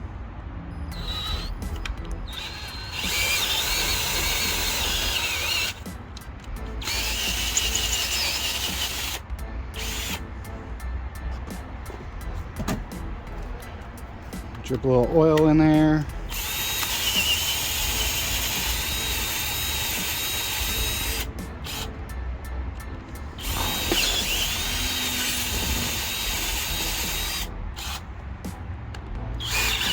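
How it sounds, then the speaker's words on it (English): Power drill boring out threaded holes in a transmission housing for helicoil inserts during a B16A3 engine swap on a 1991 hatchback, a steady whirring drone running through most of the stretch, with a brief rising whine midway and a voice speaking briefly. "let's start drilling this out"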